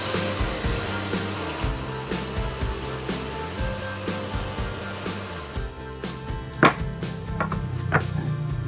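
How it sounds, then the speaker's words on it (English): A table saw cuts through the center of a wooden jig base built for making dowels. It gives a steady, close whirring rasp under a constant motor hum, and a few sharp knocks follow near the end. "Now let's have a test cut on the center of the main base of our jig."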